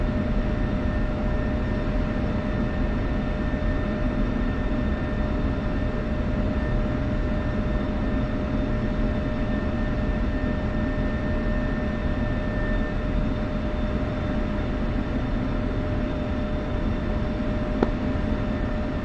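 Jet aircraft, likely an F-16 Viper, on a runway in the DCS combat flight simulator, giving a steady, even engine drone with a faint whine for the whole stretch, no voices.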